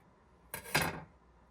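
Scissors snipping a piece of blue washi tape, two quick close clicks one right after the other, then quiet.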